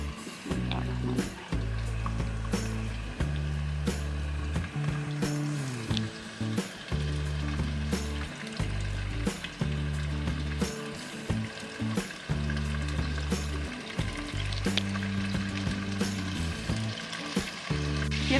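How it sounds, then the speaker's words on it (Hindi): Kebabs fry in hot oil in a karahi, a continuous moderate sizzle and bubbling with occasional clicks, and steady music plays beneath it. "अब हम इन्हें रेड करते हैं, इनको अच्छी तरह फ्राई कर लेते हैं"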